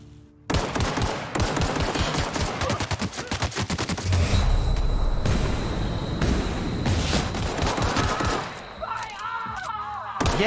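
Gunfire in The Outer Worlds, with rapid bursts of automatic shots fired close together in a sustained loud volley. A boom and rumble come partway through, and a voice speaks briefly near the end.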